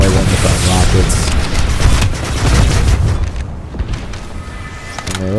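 Rockets fired at tanks in PlanetSide 2, loud booming launches and blasts packed into the first seconds, then thinning out to scattered distant thuds and rumble.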